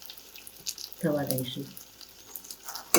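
Water added to a pan of stuffed brinjal curry gives a brief hiss and splash under a few spoken words, followed by quiet frying sounds and a short clatter near the end.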